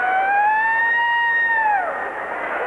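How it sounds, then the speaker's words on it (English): Siren in a basketball arena sounding a single loud, steady electronic tone for about two seconds before dropping away into the crowd's murmur. "I didn't know there was a siren in the arena."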